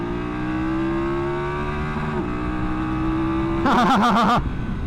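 A BMW F900GS Adventure motorcycle engine revs loud and steady, its pitch climbing, then dipping briefly at a quick-shifter upshift before building again, ending in a burst of rapid wavering revs.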